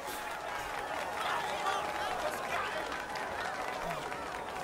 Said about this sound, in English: And the crowd's roaring for some action.